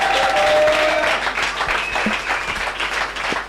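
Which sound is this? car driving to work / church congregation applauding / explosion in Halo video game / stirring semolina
church congregation applauding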